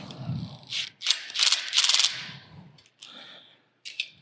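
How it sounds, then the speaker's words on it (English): An impact driver set to its lowest torque snugs bolts down on a high speed sphere machine, giving short rattling, ratcheting bursts separated by pauses, close to the microphone. "Now I am going to tighten these bolts with the impact driver"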